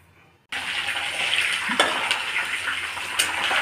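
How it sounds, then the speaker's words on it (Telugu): Green chillies and curry leaves drop into hot oil and burst into a loud, steady sizzle after a short quiet start, with a few crackles and pops on top. "కరివేపాకు, పచ్చిమిరపకాయలు వేసేసి వేయించేసుకొని"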